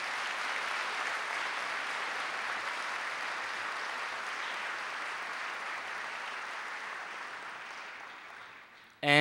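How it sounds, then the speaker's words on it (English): An audience applauds 10th grade award winners at a high school academic awards ceremony: a steady, dense wash of clapping lasting several seconds, thinning near the end before a brief louder burst at the close. "how about a big round of applause for all our 10th grade winners?"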